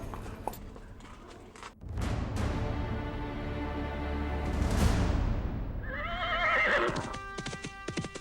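A horse gives a long, loud whinny that rises and trails off, preceded by scattered hoof clops and shuffling, then a second shrill, wavering neigh near the end.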